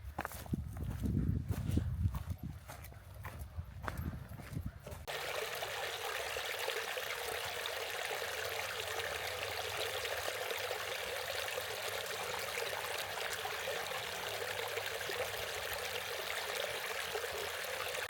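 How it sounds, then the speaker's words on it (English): A babbling brook on a woodland hike gives a loud, steady, close rush of running water that fills the sound. It is preceded by a few seconds of footsteps and handling noise. "This babbling brook sounds fucking insane. You need to hear it."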